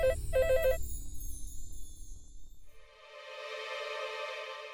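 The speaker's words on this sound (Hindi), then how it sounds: "मैं प्रज्ञा को फोन लगाती हूँ।" A phone rings in a television drama scene, with quick beeping ringtone bursts over a music bed, then a softer, steadier electronic tone that carries on to the end.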